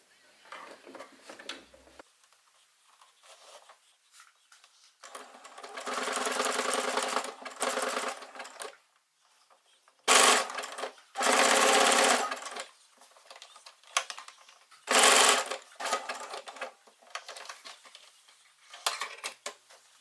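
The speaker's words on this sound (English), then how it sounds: "Then I sewed the boning into the seams with zigzag stitches following these instructions." A sewing machine zigzag-stitches boning into the bodice seams of a dress in several separate bursts, each a loud, close mechanical whir of a few seconds, with quiet pauses between them.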